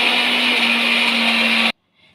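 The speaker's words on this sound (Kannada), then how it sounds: "ಮಿಕ್ಸಿ ಜಾರ್ಗೆ ಅವಲಕ್ಕಿ ಹಾಕ್ಕೊಳ್ಳೋಣ, ಪೌಡ್ರ್ ಮಾಡ್ಕೊಳ್ಳೋಣ." A kitchen mixer grinder powders flattened rice (poha) in its jar, a loud, steady motor whine with a constant hum that runs for under two seconds and then cuts off abruptly into near silence.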